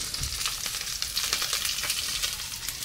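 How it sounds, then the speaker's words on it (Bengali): Fish sizzles steadily in a hot pan, a close, even crackling hiss throughout with no talk. "এই দেখো মাছ ভাজছে"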